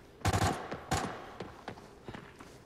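Gunfire from an M110 rifle in the Arena Breakout video game: two loud sharp shots close together near the start, then fainter scattered cracks and thuds trailing off.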